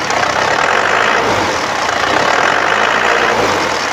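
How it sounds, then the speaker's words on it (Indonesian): Isuzu Panther LS 2.5 turbo diesel engine from 2010, checked under the hood, running steadily at raised revs with a loud, continuous rough drone and no talk over it. "Kalau kita gas, kita naikkan RPM-nya, ya alirannya muter, alirannya lancar."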